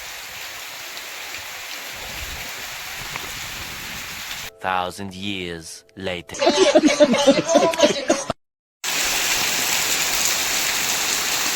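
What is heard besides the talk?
heavy monsoon rain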